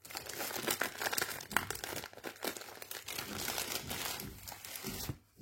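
Scissors snipping and pulling open the plastic wrapping on a Lego Ninjago magazine, heard close up as continuous crinkling and rustling of plastic that ends abruptly near the end.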